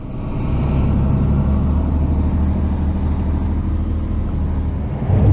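Mercedes truck engine pulling away and accelerating on the road, a loud, steady low diesel drone that holds throughout with a slight swell near the end, no talking.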